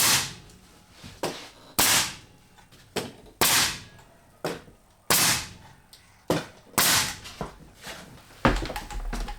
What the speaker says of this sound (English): I'm just going to nail it up and get this project rolling